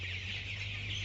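A crowded pen of 21-day-old broiler chicks gives off a steady, continuous chorus of cheeping and clucking, a close, dense wall of small bird calls over a low constant mechanical hum.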